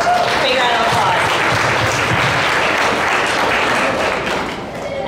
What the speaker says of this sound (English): So that's a big round of applause.